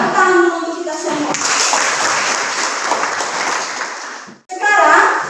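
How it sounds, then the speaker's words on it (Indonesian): A classroom of schoolchildren applauds together during an Indonesian primary-school lesson, a dense steady patter lasting several seconds, with children's voices at the start and end. "Tepuk tangan dulu untuk kita semua"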